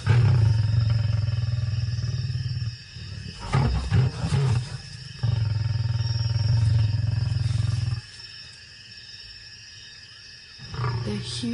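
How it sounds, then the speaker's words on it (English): Lions growl and roar in deep, rumbling bursts, loud and close, with a pause of near-quiet between the long throaty calls. "those growls and roars just rattle through your body"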